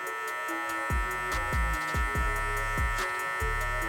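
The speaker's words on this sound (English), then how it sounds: "leaning that clipper in, being soft with it to really soften up that area" Electric hair clippers buzz steadily and close during a mid fade in a barbershop, held at a constant hum with slight pitch wavers as the blade is leaned in and worked softly over the scalp.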